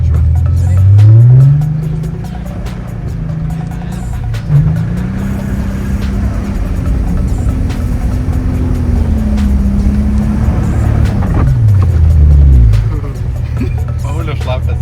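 A car revs and accelerates hard through deep mud, with the engine rising and falling in pitch several times, and people talk over the noise.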